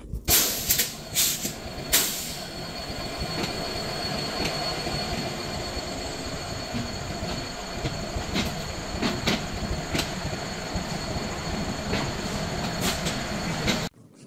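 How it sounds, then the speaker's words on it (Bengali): The Dhumketu Express passenger train in Bangladesh pulls onto the line at night, rumbling steadily nearby with hissing brakes, metallic clanks and occasional wheel squeals as it moves slowly along the track. "রাত প্রায় 3টা বাজতে কিছুক্ষণ বাকি, ট্রেনটিকে লাইনে দেওয়া হলো"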